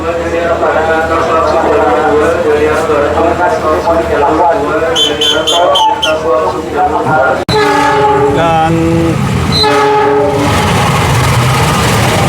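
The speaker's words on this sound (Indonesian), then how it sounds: "ada lagi kereta Pulau Jawa ya yang melintas di peron 2 stasiun Bekasi" A train rolls through platform 2 of Bekasi station, Indonesia, with a loud horn blast and rumbling cars, while people talk nearby over the noise.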